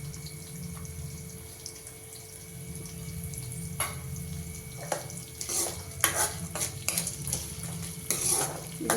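Onions go into a pan and are stirred, with a low hum and faint sizzle under scattered metallic scrapes and clinks of a utensil that grow busier toward the end.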